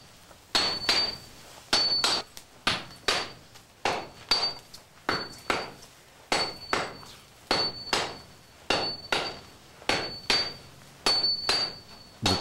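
A Japanese swordsmith hammers a composite steel sword blank of jacket and core steel, shaping it with a steady run of sharp, ringing metallic strikes at a regular rhythm, close and loud with no talk.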